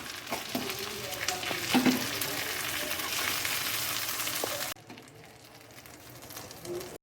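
Tandoori chicken fries in a pan on a stovetop, giving a steady close sizzle with occasional stirring and scraping, then dropping to a quieter hiss near the end.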